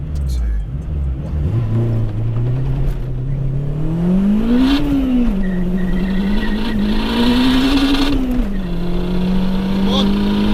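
A 464 bhp turbocharged Honda DC5 launches in a quarter-mile race against an Audi RS3, its engine rising in loud revving pulls with gear changes, heard close from inside the car.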